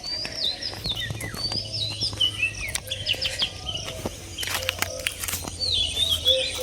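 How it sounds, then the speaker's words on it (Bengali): Several small birds chirp and whistle outdoors near a mango tree, bright overlapping calls coming in bursts throughout, with a faint steady insect hum underneath and no voices. "পাখির সুর, অন্যান্য নতুন পাখির সুর এখানে শুনতে পাওয়া যায়"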